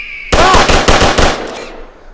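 Gunfire in the VR western shooting game Quick Draw: a loud, rapid burst of several close shots in quick succession, ringing out briefly before trailing off.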